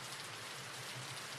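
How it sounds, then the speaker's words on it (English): Steady, dense rain patters loudly and evenly on a surface, a constant wash of drops with no voices. "Some rain will put us to sleep."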